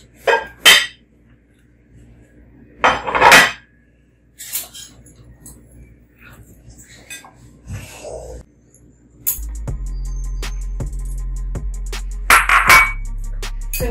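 Plates and dishes handled in a home kitchen while preparing fried chicken wings, with a few sharp clinks and clatters at first, then a steady low hum with more rattling and clinking near the end.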